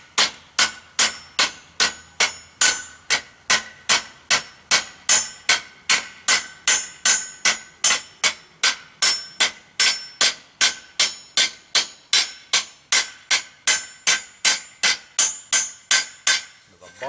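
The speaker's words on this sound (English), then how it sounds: "I'm going to go back to my smaller ball peen hammer so I can get right down in there." A small ball peen hammer strikes a forged steel fireplace shovel head dozens of times in a steady, even rhythm, each blow ringing sharp and bright, close by with no talking.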